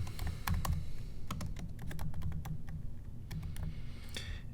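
Someone types an address on a computer keyboard, a quick irregular run of close key clicks and taps over a faint steady background hum, with no talking.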